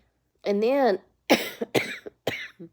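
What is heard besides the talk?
person coughing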